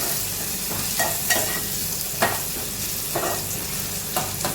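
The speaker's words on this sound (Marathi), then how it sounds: "थोडा शिजू द्या टॅमॅटो" Tomato and garlic fry in a pan with a close, steady sizzle, broken by repeated scraping strokes of a spoon stirring at a regular pace.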